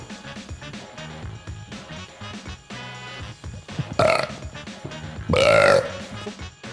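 A loud, drawn-out burp after eating coleslaw, heard in two strong bursts over a steady bed of background music.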